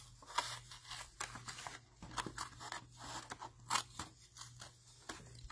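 Scissors cut paper for a handmade explosion box, a series of close, crisp snips and slicing strokes in irregular bursts with short pauses between them.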